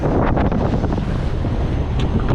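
Stormy wind roars hard at a fishing harbour near Mumbai, a loud, steady, buffeting rush with rough waves and surf churning beneath it and no voices.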